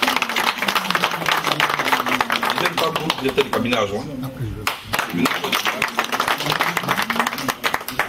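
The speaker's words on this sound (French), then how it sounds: "il faut l'applaudir" Brisk audience applause at a party congress of Cojep in The Hague, dense rapid clapping filling the room while someone speaks over it.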